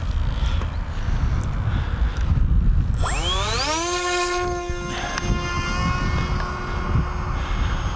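An RC model airplane with a Matek F405 flight controller throttles up, and its electric motor whine rises sharply in pitch and then holds a steady high tone over constant background wind rumble.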